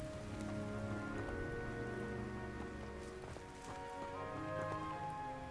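Rain falls across a cobbled courtyard in the video game Hogwarts Legacy, a steady, dense patter of drops that continues evenly from start to finish with no voices.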